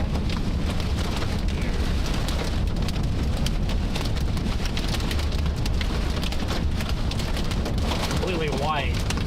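Heavy rain pours steadily during a tornado storm, a dense close hiss of rain and wind that runs throughout, with a faint whistling sound near the end.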